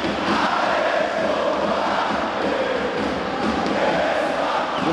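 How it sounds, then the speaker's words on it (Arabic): A packed crowd roars continuously at a men's African volleyball final between Al Ahly and Tala'ea El Gaish, a loud dense sustained wall of cheering and chanting with no break. "وادي زئير الجماهير"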